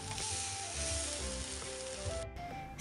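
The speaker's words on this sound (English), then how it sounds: "Sear it on high heat for about a minute or so, then rotate the steak 45 degrees angle." Kobe beef steak searing over high heat on a hot grill, a steady loud sizzle that holds for nearly three seconds, briefly dropping out before a sharp louder burst at the end.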